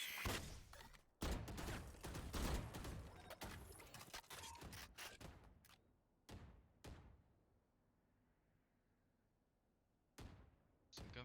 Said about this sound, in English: Some gunfire exchange,